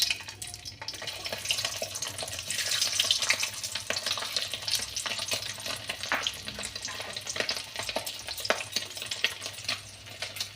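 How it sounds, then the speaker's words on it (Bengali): Pieces of steamed egg frying in hot oil in a home kitchen, giving a steady close sizzle with scattered crackles and occasional stirring clicks, no talking. "কেটে নিয়ে এবার আমি এই তেলের মধ্যে ডিমগুলোকে এরকমভাবে ভাজবো।"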